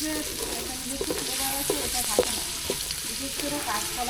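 Chopped chili and onion fry in a pan for a Bengali hilsa curry, a steady close sizzle broken by scattered clicks of a stirring spoon against the pan throughout, with no talk.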